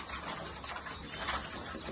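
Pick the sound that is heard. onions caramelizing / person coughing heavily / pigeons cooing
pigeons cooing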